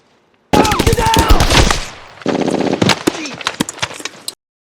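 Battlefield gunfire in a war film, loud close bursts of automatic rifle and machine-gun fire mixed with sharp single shots and impacts, a brief lull, then another rapid sustained burst before cutting off.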